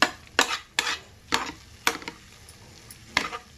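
A spoon stirs moong dal and drumstick leaf curry in a pan, making about six distinct scraping strokes at an irregular rhythm over a quiet, faint sizzle, with no talking.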